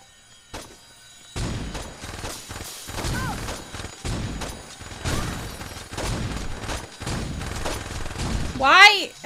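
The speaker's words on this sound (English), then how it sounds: "Why am I getting shot at so much?" Rapid bursts of gunfire in Saints Row 2 crack out in dense volleys across several seconds, with short gaps between them and a sharp electronic effect at the end.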